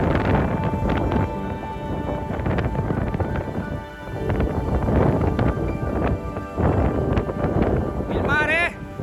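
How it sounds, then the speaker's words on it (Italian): Strong wind on the Sicilian coast roars steadily and loudly into the microphone, buffeting in gusts throughout with no voices heard. "Immagini non rendono un'idea del vento che sta tirando."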